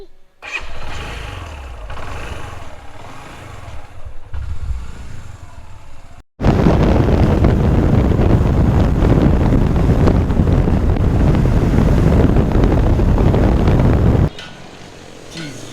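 A motorcycle on a long highway tour to Kenjhar Lake starts up, then rides at steady speed. Loud, sustained engine and wind roar fills most of the stretch, with a quieter idle before and after.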